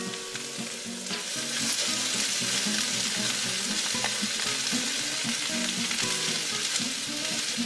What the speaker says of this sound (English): we're now gonna fry off the mince for a couple of seconds beforehand